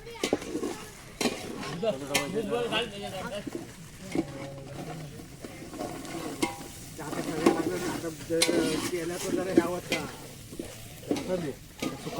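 Spice tempering sizzles in oil in a pan while a spoon stirs and scrapes with irregular clinks, and voices talk over the cooking throughout, at an outdoor farmers' picnic in Konkan.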